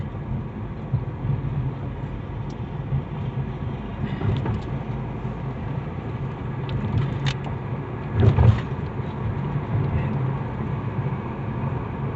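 A car rolls along with steady road rumble, broken by a few bumps and one heavier thump as it crosses railroad tracks.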